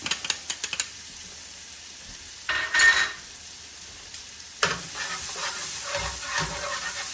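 Garlic and shallots dropped into a hot pan for shrimp scampi: a few sharp knocks, then a burst of hissing sizzle, and later a loud steady sizzle that keeps going, with no talking.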